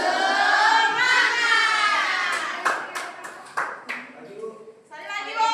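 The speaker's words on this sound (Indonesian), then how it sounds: "Tepuk semangat" A classroom group claps in a rhythmic tepuk semangat chant, sharp claps landing in a quick pattern between sung voices from the teacher and students, all close and fairly loud.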